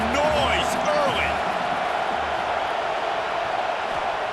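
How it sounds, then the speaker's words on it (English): A stadium crowd at a Michigan versus Nebraska college football game roars in a dense, continuous wash of noise, with scattered shouts and whoops rising above it. "This crowd bringing the energy and noise early."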